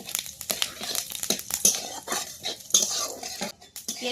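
Whole cumin seeds go into hot oil in a kadai and a metal spatula stirs them, with quick scraping and clinking strokes over a soft sizzle, close and fairly busy for a few seconds.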